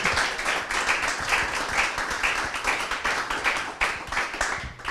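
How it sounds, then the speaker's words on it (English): A ProductTank London meetup crowd applauds two speakers, with dense, steady clapping from many hands that fills the room at an even level throughout. "If the crowd wouldn't mind giving a hand to these two phenomenal speakers."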